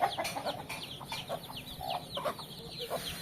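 A large hen with about fifteen young chicks clucks in a low voice nearby, while the chicks give rapid, high peeps throughout. No voices are heard.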